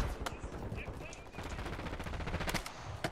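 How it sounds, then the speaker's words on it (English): Rapid machine-gun and rifle fire from several teams shooting at once in a ranked online shooter match, dense overlapping bursts with sharp loud cracks, with player voices talking over it. "there is three teams shooting us from across the left as well"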